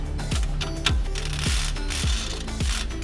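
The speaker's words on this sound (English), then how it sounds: "we'll remove the 15mm nut and bolt from the bottom of the shock" A ratchet wrench loosens a 15mm nut on the lower shock bolt of a Polaris RZR PRO XP4 Ultimate, giving a close, loud run of clicking pawl strokes in a steady rhythm of about five pulls.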